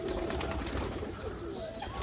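Pigeons coo steadily as a flock leaves its loft in Rajshahi, Bangladesh, the soft calls overlapping into a continuous, moderately loud murmur with no talk.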